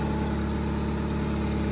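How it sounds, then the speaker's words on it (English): A Dodge Stratus 4G64 four-cylinder, just back together after a rod bearing swap and with an exhaust leak, idles in a close, steady low rumble with an even pulse and no voices. "let's go ahead and let it warm up, let it idle"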